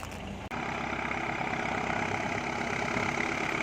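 A Ford 7610 farm tractor, fitted with an air-conditioned cab, idles steadily and close by with a low, even diesel rumble. There is a brief dropout near the start, and no voices are heard.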